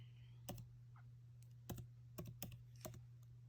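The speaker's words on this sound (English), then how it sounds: "type in whatever it is you're looking for" Quick bursts of keystrokes on a computer keyboard, a handful of light, irregular clicks close by over a steady low hum, with no talking.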